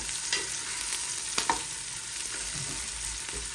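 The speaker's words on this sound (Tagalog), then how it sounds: "Lutuin lang natin yung sibuyas niya." Onion fries in a pan for soup, a continuous close sizzle with soft scraping and stirring noises and a few light clicks, no talking.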